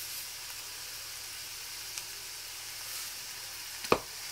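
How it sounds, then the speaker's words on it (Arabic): Onions sautéing in a pan as a filling with peppers for a Ramadan savory stuffed bread. A faint, steady sizzle carries throughout, with a couple of light utensil clicks and a sharper tap near the end. "ونزيد عليها البصله وغادي نخليهم يتشحروا"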